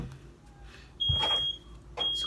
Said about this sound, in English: That's my smoke detector, because people are cooking